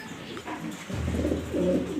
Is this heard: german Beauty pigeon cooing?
yes